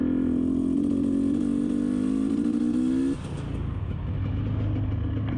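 A 2022 GasGas EC300 motocross bike engine holds a loud, steady rev out in the woods, then drops off and settles to a lower rumble.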